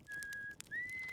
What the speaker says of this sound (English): that sound you're hearing is him whistling